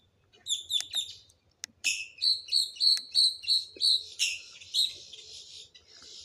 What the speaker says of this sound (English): I think it's crows, but I'm not sure.